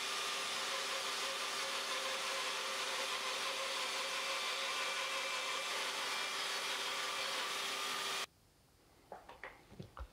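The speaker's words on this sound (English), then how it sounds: "now I'm gonna take it over to the bandsaw, and I'm going to resaw the board" A bandsaw resaws a wooden board in a workshop, its loud, steady whine running continuously for about eight seconds before cutting off abruptly, leaving faint scattered knocks and handling sounds.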